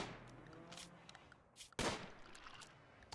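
A few faint, distant gunshots in the video game RimWorld, one sharper crack partway through, with quiet background noise.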